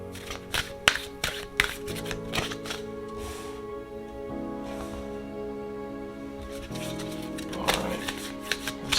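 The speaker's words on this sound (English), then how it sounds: "Let's shuffle." Oracle cards from a unicorn-themed deck being shuffled by hand, a run of crisp riffling taps and bursts with brief pauses between, close and alone, under a soft steady background tone.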